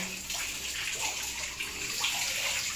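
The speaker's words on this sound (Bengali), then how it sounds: "মাথায় জল ঢেলে দিয়েছে মেয়েটা" Water poured over a child's head during a bath at home: a continuous close rush and splash of water that stays steady throughout, with no voices.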